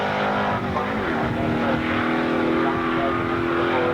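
Loud, continuous roar of 1980s Australian race cars accelerating hard, engines straining with steady revving and a hint of tire noise, filling the whole stretch without pause.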